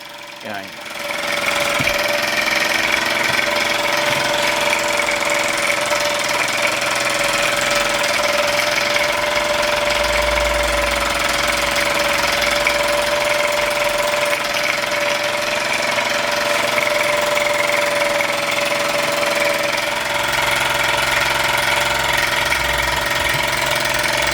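Steady mechanical hum and rapid chuffing of a Luton Bowman PW201 model steam engine running continuously, smooth and even throughout, close by.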